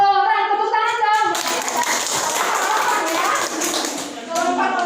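At a school awards announcement, a crowd breaks into a burst of dense clapping that fills most of the moment, bracketed by a voice talking before and after.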